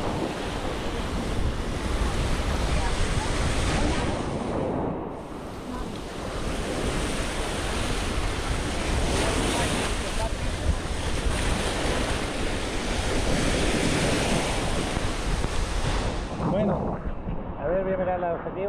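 Ocean surf breaking on Playa Mamitas, a Caribbean beach, makes a steady, close, full-bodied roar mixed with gusty wind buffeting the microphone, with a brief voice near the end.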